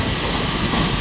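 A ScotRail train to Dunblane pulls out of Edinburgh Waverley station, a loud, continuous broadband rumble and roar of engine and wheels filling the platform for a brief moment.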